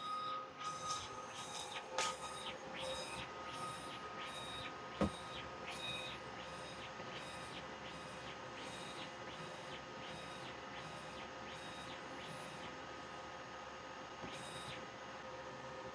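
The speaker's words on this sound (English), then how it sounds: "now the printer started, and what it's going to do is actually start warming up and start printing" An xTool apparel DTF printer warms up and prints, its print head shuttling back and forth in a regular repeating rhythm of whirring passes over a steady mechanical hum, with a few faint clicks.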